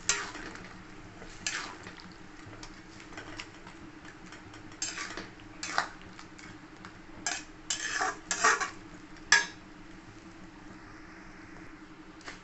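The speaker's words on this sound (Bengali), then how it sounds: "আমি এই যে ভেজে রাখা চিকেনগুলো দিয়ে দেবো। আবার ভালো করে নেড়ে নেবো।" Fried chicken is stirred in a pan for chilli chicken, and a metal utensil knocks and scrapes against the cookware in irregular clinks and clatters. The sounds are fairly quiet, with no voices.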